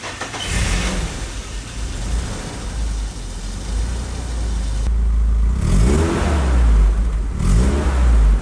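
A BMW E30 engine revs and accelerates on a test drive, a loud, steady mid-pitched drone that swells with rising gear pulls near the end, with no talking.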